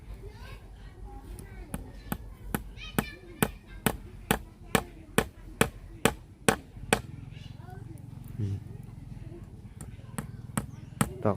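Something is being hammered in with about twenty evenly spaced, sharp, close blows at a quick steady rhythm, then the strikes give way to voices talking and a few scattered knocks.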